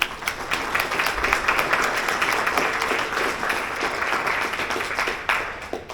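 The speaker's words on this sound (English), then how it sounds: "Round of applause for them." Audience applause at a talk on literacy in Nova Scotia: dense, steady clapping from a large crowd that holds at an even level for several seconds before thinning out.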